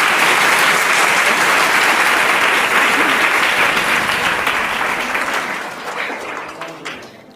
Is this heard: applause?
yes